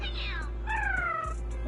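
A cat in Zenless Zone Zero meows twice in quick succession, first a rising-falling call and then a longer drawn-out mew, close and clear over a steady low game hum.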